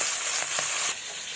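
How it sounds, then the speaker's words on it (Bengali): Fish sizzling as it fries in hot oil in a home kitchen, a close, steady crackle that drops slightly in level partway through. "এদিকে আমার মাছ ভাজা হচ্ছে"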